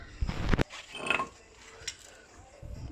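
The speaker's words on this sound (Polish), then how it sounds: "nabijamy po prostu końcówkę co ważne dwunastokątną żeby dobrze chwyciła i odkręcamy śrubę" Twelve-point 24 mm socket on a wrench working an anti-theft locking bolt loose, giving a couple of short metallic knocks and ratcheting clicks near the start, then faint scraping and a few small taps.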